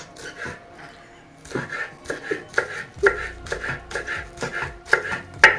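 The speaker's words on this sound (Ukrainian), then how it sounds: "Нарізаємо цибульку, щоб прикрасити наш салатик." Repeated knife chops on a cutting board as onion is sliced for a beetroot and mayonnaise salad, in uneven bursts of sharp close taps with light kitchen handling noise between them.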